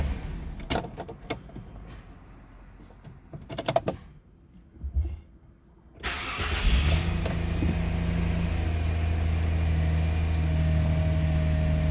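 A car engine with a faulty sensor sits in a repair shop in Eonyang, Ulsan, ready to warm up. Scattered clicks and clunks come first, then the engine starts and settles into a steady, loud idle hum.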